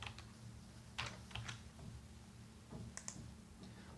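Typing on a computer keyboard, heard as sparse, close clicking keystrokes in short uneven clusters with quiet gaps and a low steady hum underneath.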